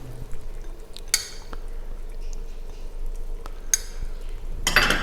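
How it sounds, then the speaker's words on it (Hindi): Chicken cubes go into a pot for traditional chicken haleem and get stirred, with short bursts of scraping and clatter around one and four seconds and a louder scrape at the end over a low steady background. "तो इसमें अब डालते हैं हम चिकन क्यूब्स।"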